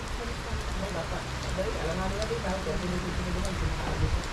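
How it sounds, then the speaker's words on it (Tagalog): Steady heavy Philippine rain roars without a break, a dense hiss with scattered drops spattering nearby, and faint voices murmur underneath. "Grabe, lakas ng ulan no."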